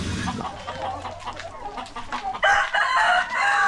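Backyard chickens cluck and a rooster crows repeatedly at close range, the calls growing louder toward the end, while hens are laying eggs.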